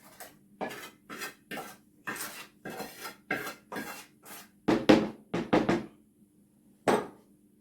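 Metal utensils clink and scrape against a bowl while mixing spinach for a spinach börek, in quick repeated bursts, a short pause, then a few more sharp clatters as the mixing continues.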